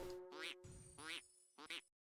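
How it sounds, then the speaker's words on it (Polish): Cartoonish duck quacks when struck in the video game Vindictus: three loud, close, nasal quacks in quick succession against a faint background tone, with no talking. "to kaczka w ogóle dźwięki da tak jak się obije"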